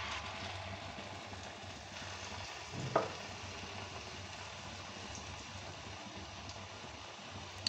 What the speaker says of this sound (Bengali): তেল গরম হয়ে গেছে। আমি এবার এগুলো এর মধ্যে ডুবিয়ে দিয়েছি, ডুবিয়ে একটা করে তেলে ছেড়ে দেবো।